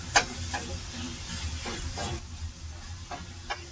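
Hamburger meat frying in a pan, giving a quiet continuous sizzle and hiss with a few light clicks and scrapes close by.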